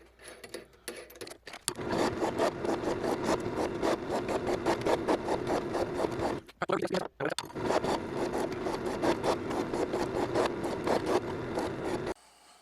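Drilled holes in a handmade knife blank are chamfered, making a close, rhythmic scraping and grinding that pulses repeatedly, pauses briefly midway, then carries on steadily.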